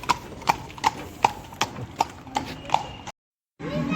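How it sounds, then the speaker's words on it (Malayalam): Hooves clip-clop at an even walking pace during a horse ride at a Gergean celebration in Kuwait, about eight crisp, close strikes before a brief silence and a burst of background noise. "ഇതാണ് ഞാൻ പറഞ്ഞ കുതിര സവാരി"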